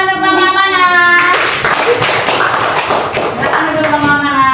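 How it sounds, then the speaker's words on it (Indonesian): Hand clapping breaks out in a primary school classroom during a group presentation, a burst of claps lasting a couple of seconds between sung or spoken voices. "Tepuk tangan untuk kelompok amanah."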